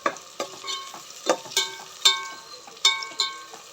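Onions frying in a pan while a goat-head curry is made, heard as repeated scraping stirs, each a sharp spatula stroke over a steady sizzle, roughly two a second, close and moderately loud with no voices.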